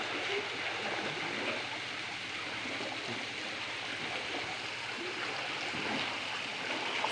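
The Singirikona waterfall in Andhra Pradesh pours steadily, a constant broadband rush of falling water with a gentle gurgle, unbroken and close.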